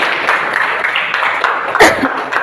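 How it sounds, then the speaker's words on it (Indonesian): Students in a classroom clap briefly together, a soft, steady patter of hands lasting a couple of seconds. "Tepuk tangan."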